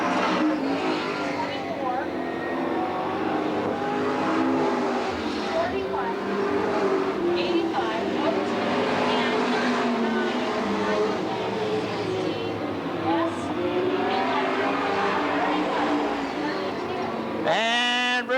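Stock cars racing around Eugene Speedway in 1991, a continuous loud roar of several engines passing on the oval, with an announcer talking over it and a sharp rising whine at the end.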